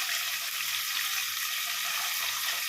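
Tomatoes frying in oil for a stingray fish curry, a dense, even sizzle that stays loud and close throughout the short stretch, with no talking.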